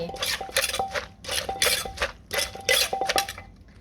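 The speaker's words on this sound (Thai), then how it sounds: "ตำให้มันเข้ากันก่อน" Ingredients pounded together in a mortar for a Thai dish, heard as a run of close, irregular clattering thuds and clinks in quick bursts with brief pauses between.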